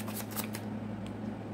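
A deck of blessing cards being shuffled, giving a quick riffling flutter of several rapid bursts up close that then fades into a quiet hum.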